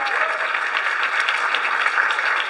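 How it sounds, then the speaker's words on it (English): An audience at a community event honoring Hispanic heritage bursts into dense, steady applause, many hands clapping together in a loud continuous wash. "Yes, you clap all you want. Aplauso."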